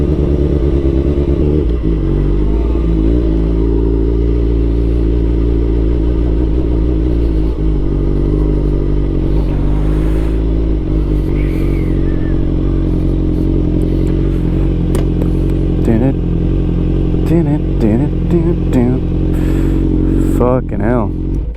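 A Suzuki GSX-R 750 K5 sport motorcycle engine runs very loud and close, a steady rumbling drone with occasional revs and mechanical clatter, while voices talk faintly over it.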